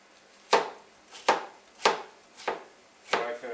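Onions being chopped with a knife on a cutting board for fresh bread stuffing, five sharp, evenly spaced knocks heard up close with no one talking.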